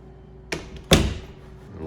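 A trap door in a house, two wooden knocks in quick succession, the second a louder thud, close and alone.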